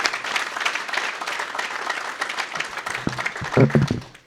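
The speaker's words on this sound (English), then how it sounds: "a big round of applause for the wait staff" A banquet dinner crowd gives a big round of applause for the wait staff, loud and sustained clapping that swells near the end as a voice briefly rises over it.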